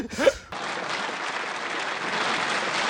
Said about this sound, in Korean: 여기 짝짝짝 박수 뜰 겁니다